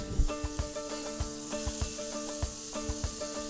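Onions and green bell pepper sizzle and crackle in a hot pan, with a soft steady hiss and scattered pops and stirring clicks, close by.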